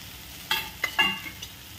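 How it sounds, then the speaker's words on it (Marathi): Grated sweet potato dropped into hot ghee tempering gives a few quick, soft sizzling and stirring scrapes within a brief, quiet moment. "आणि रताळ्यात आपण ह्या तुपाच्या फोडणीमध्ये घालायचं आहे."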